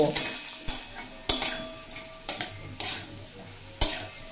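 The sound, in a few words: potatoes frying on medium flame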